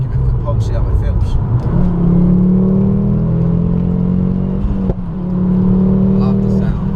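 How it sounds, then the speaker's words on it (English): A turbocharged Ford Focus ST engine, tuned to about 320 bhp, revs and rumbles, its pitch climbing and holding steady with a brief dip partway through, loud and close. "the turbo noise and the sort of pops and bangs you get in"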